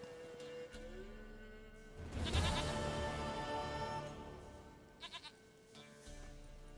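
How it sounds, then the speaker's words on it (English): A goat bleats in The Witcher video game, a wavering cry under steady game music and ambience, with a few short sharper sounds following near the end. "Goat of mine, dearest, sweetest goat."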